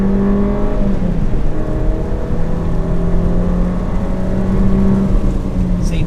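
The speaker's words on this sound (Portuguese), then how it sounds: "Agora vamos fazer o teste aqui de 0 a 100 com a GLA 200." A Mercedes-Benz GLA 200 with a turbo engine accelerates hard from 0 to 100 in Sport mode, its engine note rising steadily through the gears with brief shift dips, loud and close, with no speech.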